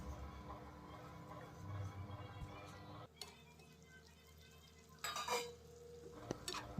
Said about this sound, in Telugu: ఈ ప్రాన్స్ అన్నింటిని దీంట్లో వేసేసుకొని ఒకసారి బాగా కలుపుకొని